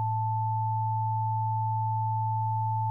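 Two steady sine tones, one low and one higher, sound together and drift slightly in and out of phase, giving a pure, unchanging electronic hum that holds alone for the whole span.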